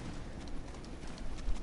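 A horse gallops in a video game, its quick, faint hoofbeats pattering in a steady rhythm, with a heavier thud near the end.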